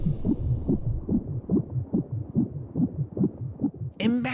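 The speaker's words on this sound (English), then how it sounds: "the heart begins to beat" A steady heartbeat sound effect pulses in a regular rhythm of deep, muffled double thumps, close and prominent throughout, ending with a brief brighter tonal swell.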